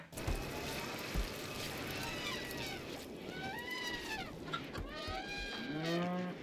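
Cattle mooing alongside clucking chickens in the farm game RimWorld, a few drawn-out moos rising over a continuous busy background of farm ambience, with some brief speech mixed in.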